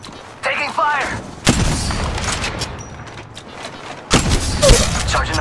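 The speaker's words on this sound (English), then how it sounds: "They're shooting at me. Firing." Gunfire in the mobile shooter Apex Legends Mobile, with loud, close bursts of shots and booms in two dense barrages and scattered cracks between them, alongside game sounds and faint voices.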